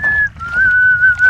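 A sustained, steady whistle close by on a squid-fishing boat, with a brief dip before it carries on at a level pitch over low background noise.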